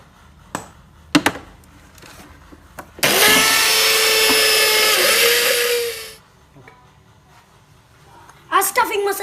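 A kitchen mixer grinder whirs loudly for about three seconds, grinding fried red chilli, peanuts, coriander and cumin seeds into masala, with scattered knocks and clatter before and after.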